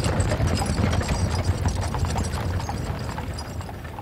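Horses' hooves clip-clop in a steady, dense rhythm, close and fairly loud, with no voices over them, fitting British army horses procured during the First World War.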